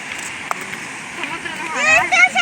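The steady rush of the Muchchagandi waterfall hisses continuously nearby, while people talk over it, their voices growing louder toward the end.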